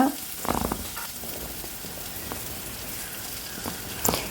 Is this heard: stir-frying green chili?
yes